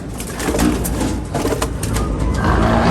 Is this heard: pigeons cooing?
yes